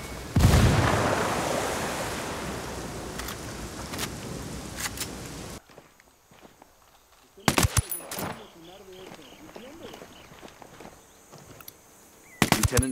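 A frag grenade in the Ghost Recon Wildlands shooter goes off in a loud, roaring blast that fades slowly over several seconds, followed by scattered sharp gunshots and brief voice chatter.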